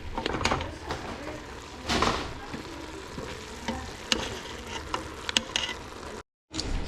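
Presliced Trader Joe's mushrooms sizzle in a pan while being stirred, with scraping utensil clicks and knocks over steady frying, close and moderately loud, with a brief dropout near the end.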